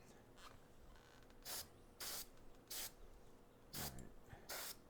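Airbrush spraying paint over a zenithal-primed miniature in five short hissing bursts, each under a second, separated by quieter gaps with a faint background hum.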